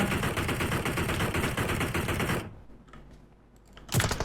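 Gunfire in the mobile battle-royale game PUBG Mobile: a dense, rapid automatic burst runs loud for over two seconds, drops to near quiet, then one more sharp shot bursts in at the end.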